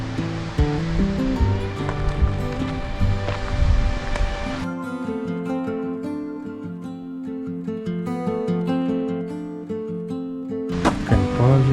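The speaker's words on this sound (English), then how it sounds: "You can hear the sound of the water." Water pouring continuously at Hilton Falls, a waterfall near a dam in Ontario, with a steady rushing roar; music plays over and then largely replaces it partway through.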